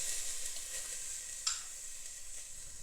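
Two cloves of minced garlic sizzle in grassy olive oil in a pan, giving a steady, soft crackling hiss with one brief clink partway through.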